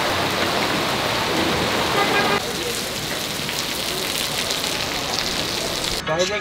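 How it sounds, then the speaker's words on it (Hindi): Heavy rain pours on a moving car, a dense, loud, steady hiss and drumming that fills the whole stretch, with a slight shift in tone partway through and a brief change right at the end. "तो भाई बारिश आ चुकी है, बहुत ही खतरनाक वाली यार।"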